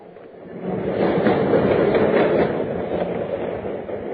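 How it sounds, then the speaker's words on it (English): A subway train rides along in a sound effect, a steady rumbling roar that swells in the first second and holds with faint clickety-clack of wheels on track, no voices. "then took the subway home."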